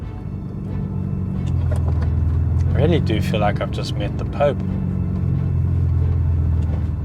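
A manual Ferrari 575M Maranello's engine holds a steady, low, rumbling drone throughout, with someone talking over it partway through.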